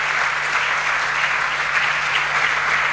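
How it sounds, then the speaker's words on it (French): An audience of students applauds the central bank governor, a dense, continuous wash of clapping heard close and loud with no talk over it. "On va quand même applaudir le gouverneur."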